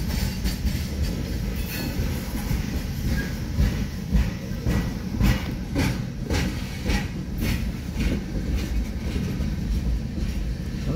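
A CSX freight train of open coke hoppers rolls past nearby, a steady loud rumble with rhythmic wheel clatter over rough track running throughout.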